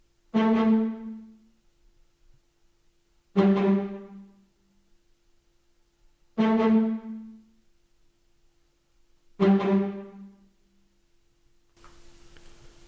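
Four short, crisp spiccato bowed string notes, a sampled string instrument, ring out at even intervals, each dying away quickly into silence before the next.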